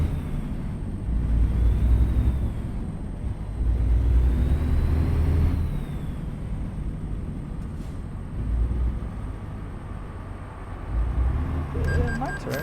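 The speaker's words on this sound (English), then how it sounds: "Like all the time, just dealing with like the truck noises" A truck engine drones steadily in American Truck Simulator, a low rumbling hum that rises and falls with gear changes, with a person talking over it throughout.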